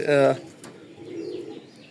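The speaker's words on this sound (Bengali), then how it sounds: "এখানে এক পেয়ার মাক্সি কবুতর দেখতে পারতেছেন এটা অরিজিনাল বাহিরের নেদারল্যান্ডের কবুতর" A pair of imported Netherlands racing pigeons gives one short, loud, throaty coo close by, followed by quieter rustling and faint cooing in the background.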